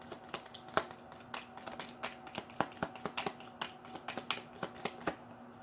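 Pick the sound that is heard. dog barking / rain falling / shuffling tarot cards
shuffling tarot cards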